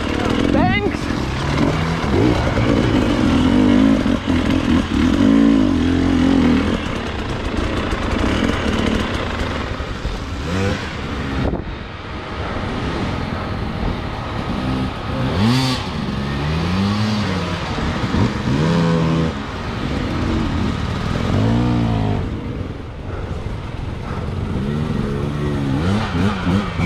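A Husqvarna TE 300 enduro motorcycle revs through hard enduro terrain at Piatra Craiului, its engine rising and falling in repeated throttle bursts, loud and close, with people talking over it.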